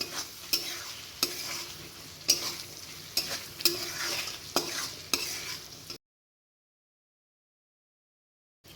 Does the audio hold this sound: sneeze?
no